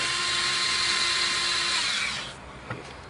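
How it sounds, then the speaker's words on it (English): Power driver whirs steadily while backing out 7mm screws from the dash of a 2014 Jeep Wrangler, a close continuous whine that stops after about two seconds, followed by a faint click. "So we're going to take those screws out."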